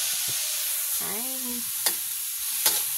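Lumpia frying for a Christmas dinner, a steady broad hiss of sizzling oil throughout with a few soft stirring knocks, while a voice briefly hums or speaks over it.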